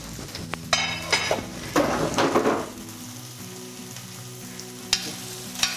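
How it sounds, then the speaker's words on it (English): Okra (bhindi) cooks in a pan on low-medium heat with a soft continuous sizzle, broken by a few louder bursts of stirring and scraping near the start and a brief clink later. "allow the bhindi to cook on low to medium heat for about 3 to 5 minutes"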